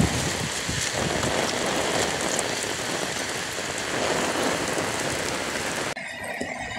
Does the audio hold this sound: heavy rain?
yes